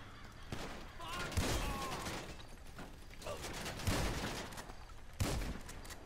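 Light machine gun firing in GTA survival mode, fairly faint bursts of gunfire arriving in a few separate clusters over a steady game background, with scattered talk mixed in.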